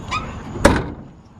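Trunk lid of a 1967 Oldsmobile Cutlass shutting, a single solid thunk close by with a short tail.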